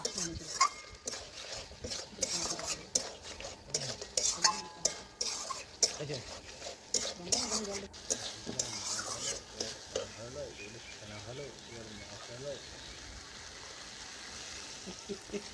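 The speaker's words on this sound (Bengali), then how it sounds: "এখন আমি মটনের যে ঝোল বানাবো তার জন্য আমি পরিমাণ মতন জল দিয়ে দেবো" Mutton curry in a pot being stirred as water goes in, with sizzling and scraping clinks of a utensil against the pan, busy at first and settling into a steadier simmering hiss.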